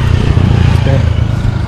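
A motorcycle engine runs steadily close by with a low, throbbing idle that holds at a constant loudness, set outdoors in a rural survival-cooking setting; faint voice traces may sit underneath.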